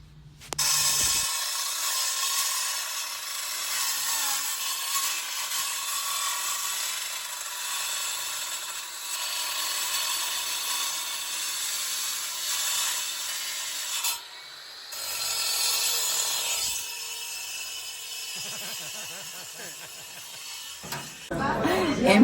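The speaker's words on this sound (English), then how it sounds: "So they are chiseling all of that off." Workers chisel a concrete window sill off for retiling, a continuous scraping, rasping hiss that runs on with brief pauses, moderately loud, with faint voices.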